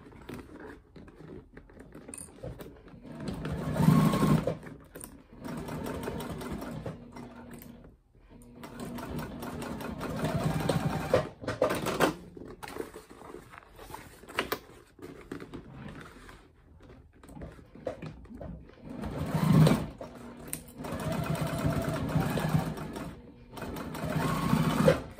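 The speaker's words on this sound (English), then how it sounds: "stitch that all down" A sewing machine stitches down a fabric seam for a summer project box in bursts of fast, rattling mechanical clatter, starting and stopping several times with quieter gaps between runs.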